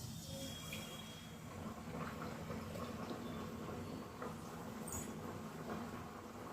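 Ragi snacks deep-frying in hot oil, a soft steady bubbling hiss at low level with faint crackles, no talking.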